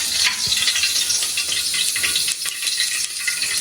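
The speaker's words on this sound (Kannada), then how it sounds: "ಇವಾಗ ಎಣ್ಣೆ ಒಗ್ಗರಣೆ ಮಾಡ್ಕೊಬಿಡೋಣ." Hot oil sizzling loudly in a pan for tempering a Karnataka bassaru, a dense crackling hiss with sharper spits and pops throughout, no voices over it.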